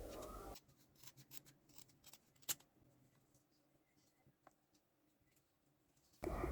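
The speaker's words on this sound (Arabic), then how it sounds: "هجيب المقص وابتدي اقصه بالطريقة دي من فوق ومن تحت" Scissors snipping satin ribbon, cut from the top and then the bottom to get equal lengths: faint, close, sparse little clicks and rustles with a sharper snip midway, louder handling noise at each end.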